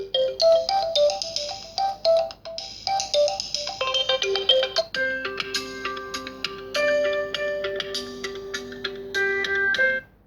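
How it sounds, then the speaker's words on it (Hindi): Several phone ringtones play one after another through the small loudspeaker of an Oppo F15 phone, bright chiming melodies with tick-like notes, loud and clear with no talking. "यहाँ से कुछ रिंगटोन्स को चला के देख लेते हैं कि स्पीकर्स की कैसी क्वालिटी है"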